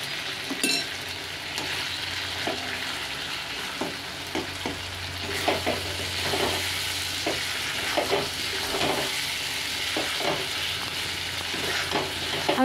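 Butter sizzling in a pan as masala is fried for aloo dum, a constant close hiss broken by regular scraping strokes of a spoon stirring, with no talk.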